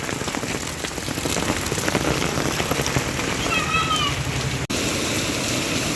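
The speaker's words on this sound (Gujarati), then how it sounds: "બહુ વરસાદ આવે હે અને જો પાણી હાલવા માંડ્યું એટલો ફૂલે ફૂલ વરસાદ આવવા માંડ્યો હે." Heavy rain pouring down outdoors, making a dense, steady hiss and patter of drops hitting surfaces throughout, fairly close and loud, with a brief faint tonal sound partway through.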